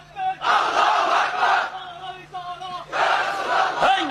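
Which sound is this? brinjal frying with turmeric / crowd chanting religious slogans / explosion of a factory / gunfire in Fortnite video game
crowd chanting religious slogans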